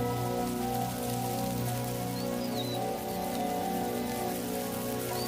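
Rain falls on the ground of the Zambian plains, a dense, continuous hiss with steady tonal hum underneath and a few faint bird chirps, no voices.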